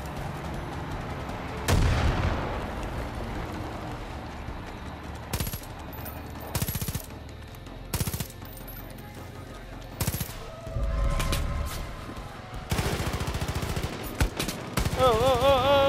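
Repeated bursts of gunfire in Far Cry 5, loud rapid volleys and single heavy shots scattered through the stretch, some close and some further off, with vehicle and ambient noise between them.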